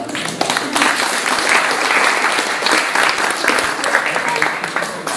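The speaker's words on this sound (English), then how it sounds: "We'll give you another round of applause." Loud, close applause from a magic show audience in a college venue, a thick continuous clatter of many hands with some voices mixed in underneath.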